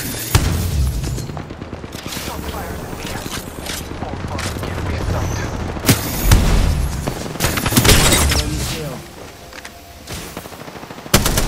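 Gunfire in the battle game Apex Legends: loud, rapid automatic bursts with sharp cracks and heavy booms, firing continuously and peaking in several hard hits.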